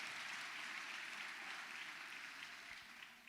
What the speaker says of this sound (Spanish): Denle un aplauso entonces al Señor